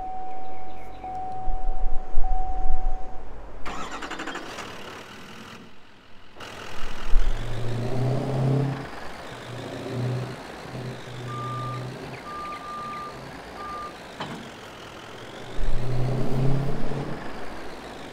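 A truck engine idles and revs in Farming Simulator 22, joined by steady electronic reversing beeps; the engine sound swells loudly in bursts, with a brief quiet gap early on.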